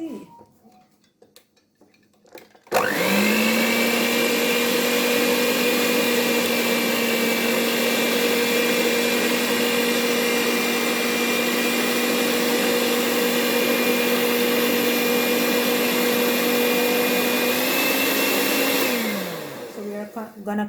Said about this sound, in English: So I think I plug in my mixer.